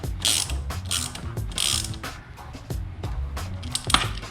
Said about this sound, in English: Tightening this side. Tighten it until that bottoms out.